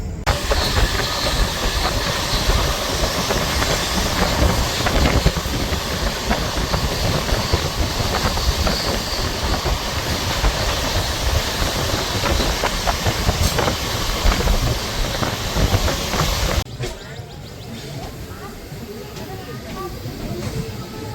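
A passenger train out of Howrah, some 230 km down the line toward Balasore and Bhubaneswar, rumbles along in a loud, steady roar with rhythmic rattling, then the noise drops abruptly to a quieter hum near the end.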